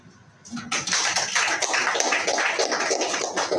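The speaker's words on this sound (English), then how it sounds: "let's clap for this young man." Crowd applause at a business opportunity expo, beginning quietly then breaking into a loud, sustained burst of many hands clapping that continues steadily for several seconds.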